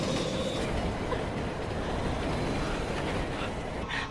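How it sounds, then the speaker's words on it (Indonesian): Steady rumble and rattle of a train running on rails in a film, a continuous loud rolling drone with faint clattering and hiss toward the end, no voices. "Tapi tidak lama kereta pun berhenti"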